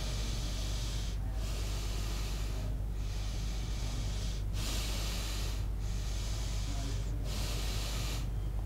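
Pranayama breathing, slow regular cycles of audible inhaling and exhaling through the nose, each breath a soft hiss separated by brief pauses, close and quiet.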